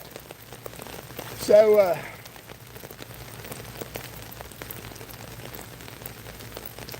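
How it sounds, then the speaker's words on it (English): Steady rain falling on a surface, a continuous soft patter throughout, with a brief voice speaking near the start. "We will deal with the rain."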